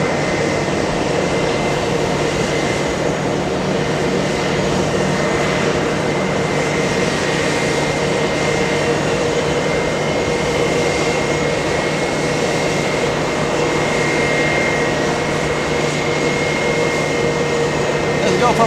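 British Airways Boeing 777-200 jet taking off at JFK, bound for London Heathrow: a steady, loud, continuous engine roar with a whining tone, sustained throughout.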